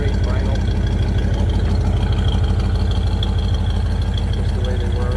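A restored 1956 Ford Thunderbird V8 idles steadily with a deep, throaty low rumble, loud and continuous throughout, with faint background noise above it.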